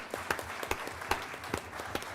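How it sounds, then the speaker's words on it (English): Brief, modest applause at a school board meeting, a small group clapping in a loose rhythm, moderately distant in the room. "Big round of applause for you, Ms. Dampier."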